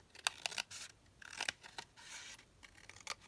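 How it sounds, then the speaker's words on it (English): Several quick snips of scissors trimming the bottom edge of a decorative paper napkin tab for a junk journal, close and fairly soft, with a short pause between the cuts. "So I'm just going to trim this down here"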